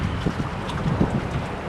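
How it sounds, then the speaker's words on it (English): Strong gusting wind buffets the microphone at the boat docks in Whittier, a dense, low rumbling roar that continues throughout with no voices. "that wind is so strong, it can blow you off of the docks"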